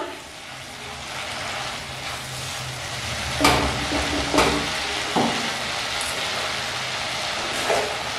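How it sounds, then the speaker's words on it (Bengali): Paneer curry masala sautéing in oil until the oil separates, a steady sizzle broken by several loud spatula scrapes and stirring knocks against the pan, no one speaking. "তেল ভেসে উঠেছে, মিনিট 2 ধরে কষিয়ে নিলাম।"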